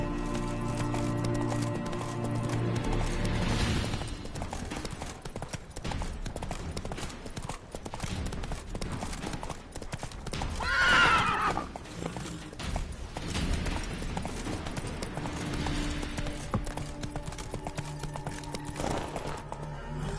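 A horse galloping with steady clip-clop hooves in the video game The Witcher 3, beneath game music and ambient sound, moderately loud throughout.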